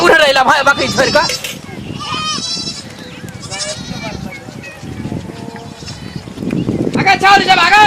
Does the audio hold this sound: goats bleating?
yes